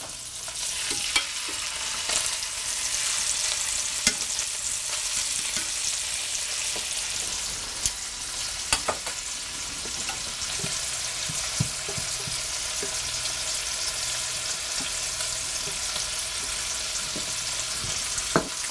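Pork tenderloin fries in a pan with a steady broadband sizzle throughout, punctuated by occasional sharp crackles and pops and a few stirring or utensil clicks, fairly close and with no voices.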